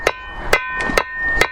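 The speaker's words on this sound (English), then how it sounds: "go to the heavy hammer like this, which will do the job much more quickly" A heavy hammer strikes a rivet on a workshop bench while mending garden tools, with five sharp, moderately loud metallic blows at an uneven pace, heard alone without talk.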